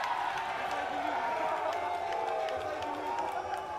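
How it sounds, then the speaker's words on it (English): Rugby match crowd roaring in sustained disapproval of a challenge, a dense continuous wash of many voices that stays loud and steady throughout. "And that's the noise coming in. Disagreement from the crowd on the challenge by Shane Welapane."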